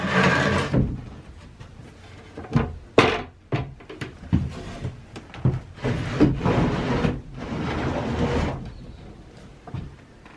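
Newly installed wooden door on a playhouse being swung and tested, giving close scraping, rubbing and wooden knocks in uneven bursts, with a few sharp thuds and quieter gaps.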